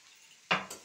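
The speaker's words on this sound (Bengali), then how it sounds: "এই মশলাগুলো দিয়ে ভালো করে আবার একটু নাড়িয়ে নেব" Ground coriander and cumin being stirred in a cooking pan, a quiet lull broken by a short scrape of a spoon against the pan and a second, softer scrape just after.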